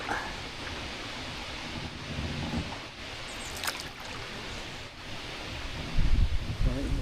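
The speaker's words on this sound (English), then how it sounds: "The wind is with us all day today" Wind gusting across the open microphone on a canoe trip down the River Waveney, a steady broadband rush with swelling gusts and a louder low buffeting burst near the end.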